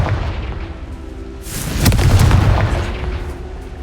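A Confringo fire spell detonates in Hogwarts Legacy, a loud booming blast rising midway and rumbling for over a second over steady game ambience.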